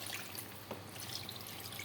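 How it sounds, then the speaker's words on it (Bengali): Water is poured into a pot of beef and taro curry, a steady faint wash and trickle throughout with no voices. "দেখেন এবার আমি পরিমাণ মতো জল দিয়ে দেবো।"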